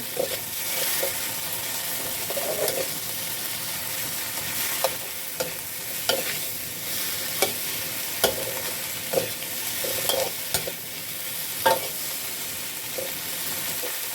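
Okra and egg are stir-fried in a wok over high heat: a steady hiss of sizzling with repeated clinks and scrapes of a spatula against the pan, close and without speech.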